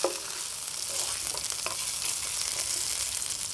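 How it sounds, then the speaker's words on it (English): Burgers and onions fry in a pan inside a Carthago motorhome, a steady, dense sizzling hiss that holds evenly throughout with faint utensil touches and no voices. "Quick turn of the onions. Quick flick of the burgers."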